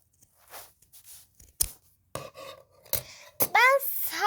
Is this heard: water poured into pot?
no